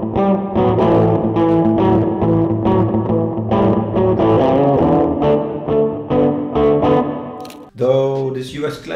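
Distorted electric guitar played through a Sonicake US Classic headphone amp, a loud, steady run of sustained chords and notes that continues across the stretch before a brief change in texture near the end, with no voices over it.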